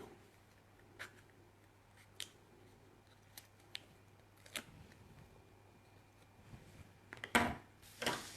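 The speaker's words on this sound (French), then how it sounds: "je prends les ciseaux" Several sharp, scattered snips of scissors cutting scrapbooking paper, quiet and close, with a faint steady hum underneath and a louder rustle near the end.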